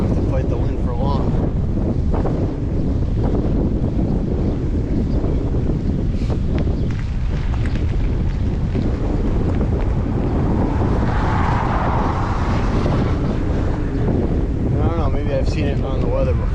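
Strong wind buffets the microphone during a bicycle trip, a loud, continuous roar with rumbling gusts that rise and fall throughout and never let up.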